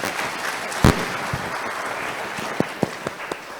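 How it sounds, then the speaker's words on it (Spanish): Scattered applause at the close of an inaugural panel on food sovereignty, thin and sparse clapping with a few distinct louder claps standing out, over a faint background. "Un aplauso entonces, por favor."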